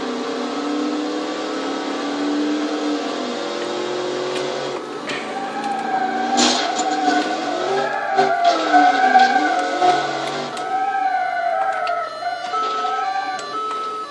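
A synthetic car engine in BeamNG.drive revs and drones with shifting pitch, steady and continuous, growing busier midway with overlapping engine tones.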